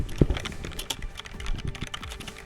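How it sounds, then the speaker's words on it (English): Computer keyboard typing during a From the Depths game session: quick irregular key clicks, close and moderately quiet, with no one talking. "Gonna make keyboard noises."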